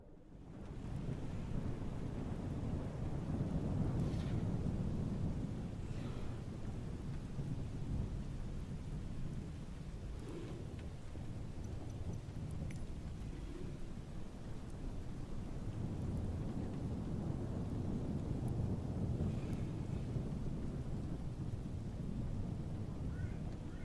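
Thunderstorm in the flight game Microsoft Flight Simulator 2020: dense, steady rain hiss with deep rolling thunder swelling and fading throughout, loud and continuous.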